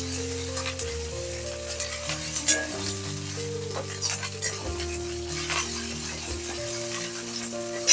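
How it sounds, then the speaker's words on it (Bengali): Ginger paste is stirred into onion and garlic frying in oil for reshmi chicken, a close, continuous sizzle with scraping spatula strokes while music plays underneath. "আদা বাটা দেওয়ার পর এটাকে একটু নাড়াচাড়া করে নিতে হবে"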